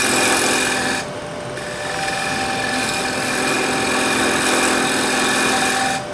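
A wood lathe turns a dry cherry plate as the tool cuts a taper, a loud, continuous rasping scrape over the motor's whine, easing briefly after the first second and then holding steady before stopping near the end.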